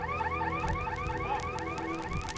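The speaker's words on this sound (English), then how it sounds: "From the ruins comes a shrill symphony of car alarms." Shrill car alarms wail together amid the ruins of the collapsed Highland Towers apartment block, with repeating rising and falling electronic tones that sound steady and fairly distant.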